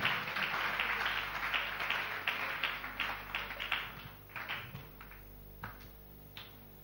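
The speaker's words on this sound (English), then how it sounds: "Clap those hands as he comes" Church congregation clapping hands at a testimony service, steady rhythmic claps close by, dense at first and thinning toward the end.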